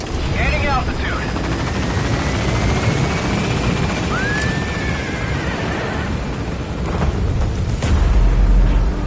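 The Pequod helicopter in Metal Gear Solid V climbs away from a landing zone, its rotor roar loud and steady throughout and building toward the end, with brief radio chatter and a rising whine in the mix.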